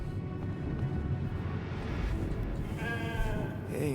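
Sheep bleating in the video game The Alters, a brief wavering bleat near the end over steady game ambience and a low background rumble.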